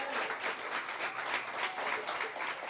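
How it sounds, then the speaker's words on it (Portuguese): Loud, continuous applause from a church congregation, dense clapping sustained evenly throughout without a break. "Pode aplaudir, mas se for aplaudir, aplauda bem forte."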